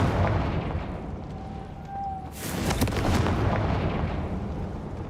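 The Confringo fire-blast spell explodes in Hogwarts Legacy with a bright, booming burst midway, preceded and trailed by a steady rumbling wash of ambient game noise.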